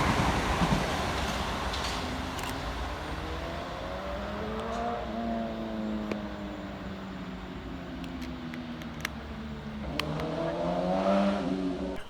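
Two coupled Southeastern Class 375 electric trains pass through Shortlands station, a rising and falling motor whine over steady rumble with rail clicks, fairly close and continuous throughout.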